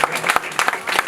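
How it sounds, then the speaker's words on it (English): A conference audience claps briefly for a young speaker, a short burst of scattered hand claps close by. "Everybody clap for him."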